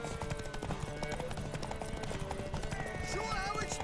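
Horse hooves clip-clop at a gallop in the video game The Witcher 3, a steady rhythm under busy game music, with a faint whinny and background voices.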